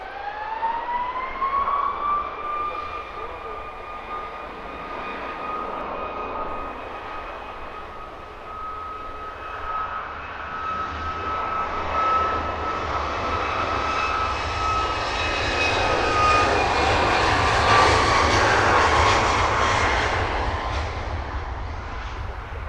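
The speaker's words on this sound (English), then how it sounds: "Nice long roll out from the Ryanair 737." A Ryanair Boeing 737 jet rolls out after landing at Luton Airport, its engines giving a loud, sustained whine that slides down and holds steady, then swells into a broad roar as reverse thrust or spool-up builds toward the end.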